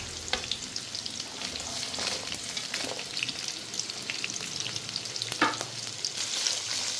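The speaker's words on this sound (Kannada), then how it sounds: "ಅದೆಲ್ಲ ಚೆನ್ನಾಗಿ ಮಿಕ್ಸ್ ಮಾಡಿ ಹುರಿತಾ ಇರ್ತಪ್ಪ ಇದು ಸ್ವಲ್ಪ ಬ್ರೌನ್ ಬರೋವರೆಗೂ ಫ್ರೈ ಮಾಡ್ತಾ ಇರಬೇಕು" Guntur and Kashmiri chillies with cinnamon and cloves frying in a hot pan, a constant crackling sizzle broken by several sharp scrapes and stirs of a spatula; no voices.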